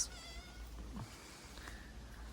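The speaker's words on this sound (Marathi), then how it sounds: "इथं एक मांजर आहे" A cat meows softly at a Mahadev temple, a faint short call near the start and another quiet mew later, against light background noise and without speech.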